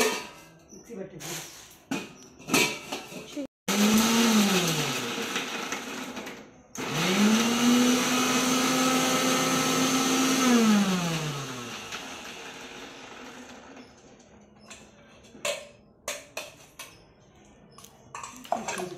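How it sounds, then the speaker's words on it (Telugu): Kitchen mixer grinder grinding onions, green chillies and a piece of ginger: two sustained whirring runs with the motor pitch rising and settling, separated by a short pause, with clattering and brief talk before and after. "ఫస్ట్ మిక్సీ గిన్నెలో ఉల్లిపాయలు, పచ్చిమిరకాయలు, కొంచెం అల్లం ముక్క"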